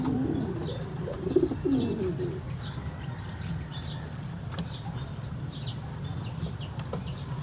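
Pigeons coo softly and repeatedly in a rhythmic, low-pitched murmur, fairly close but quiet, with faint outdoor background noise.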